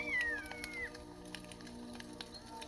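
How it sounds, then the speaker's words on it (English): A hawk gives a single high, thin, descending cry at the very start, faint over a steady low hum and soft scattered crackles that continue after the call. "Sink further into that sacred sound of Hawk, the messenger"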